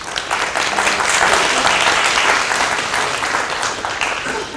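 An audience at a GED graduation ceremony applauds families and loved ones, a broad, sustained wash of many hands clapping at steady loudness without a break.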